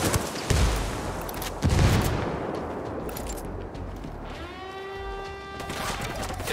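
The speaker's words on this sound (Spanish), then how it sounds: "Disparos desde la entrada del campamento." Two sharp bursts of gunfire in Tom Clancy's Ghost Recon Wildlands crack out close by over a rumbling background, followed by a ringing metallic whine that fades out.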